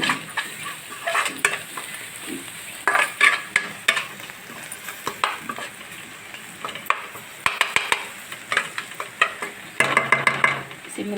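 Spices and turmeric fry in oil for a white brinjal curry, a soft sizzle broken by repeated sharp spatula scrapes and clinks against the pan, close and intermittent.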